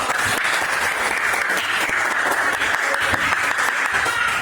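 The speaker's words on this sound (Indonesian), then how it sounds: "kita beri tepuk tangan untuk" A classroom of students applauds at the end of a lesson, a dense, continuous patter of many hands clapping at close range without a pause.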